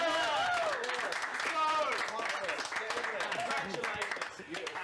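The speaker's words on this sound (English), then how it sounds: "let's have another round of applause for our department representative" A studio audience at a student leadership race results show applauds a department representative, with steady clapping running under talk and voices.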